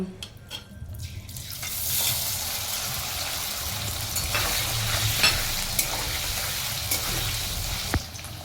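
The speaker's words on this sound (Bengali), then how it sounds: "এবার আমরা পনিরটা ভেজে নেব।" Paneer frying in hot oil in a pan for matar paneer, a loud continuous sizzle and crackle with occasional stirring clinks, close up and steady throughout.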